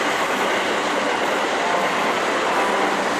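A JR Tambaji rapid train passes at night on the Kashima overpass near Umeda. A loud, steady rushing roar of wheels and cars holds for the whole stretch, with no voices over it.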